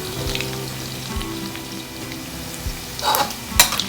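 Field rat meat crackles and sizzles as it deep-fries in hot oil for a crispy dish, with a steady hiss broken by sharp pops that burst louder near the end. Close and clear, with no talking.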